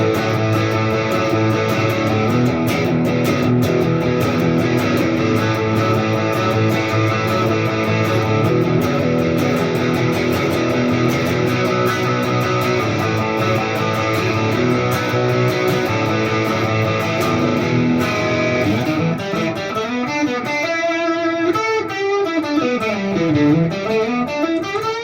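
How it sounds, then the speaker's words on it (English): Fender Limited Edition 60th Anniversary Jazzmaster '60s reissue electric guitar, bridge pickup with distortion, playing harsh sustained driven chords with a dense buzzy tone, then a wobbling, pitch-bending swirl near the end; loud and continuous with no voices. "This also does some lovely harsh tones when you kick a bit of distortion on it."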